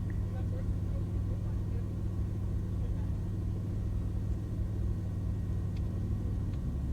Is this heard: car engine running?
yes